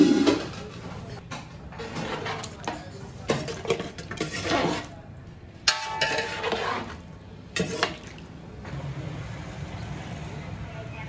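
Spice masala being stirred into rice in a pot for chicken biryani: irregular scraping and clattering of a spoon against the metal pot, with soft bursts of rustling and a voice talking at times.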